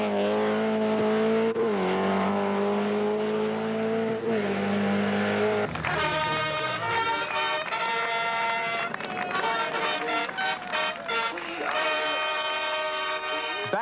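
Toivonen's rally car races flat out on a tarmac stage of the 1982 Lombard RAC Rally. Its engine wails loudly and revs up through the gears, then rises again in sharp bursts, with no talking.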